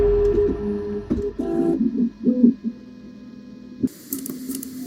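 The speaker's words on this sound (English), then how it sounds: "it was ready to be 3D printed" Bambu Lab 3D printer printing, with close stepper motors whirring and warbling in shifting tones and short moves, pausing briefly before a higher hiss and whine resume.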